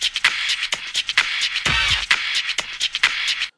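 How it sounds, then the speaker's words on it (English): Drum loop played back in Ableton: crisp, punchy kick and snare hits in a steady repeating rhythm with a brief fill near the middle, loud and clean with no talking. "why don't we go ahead and listen to this drum loop really quickly"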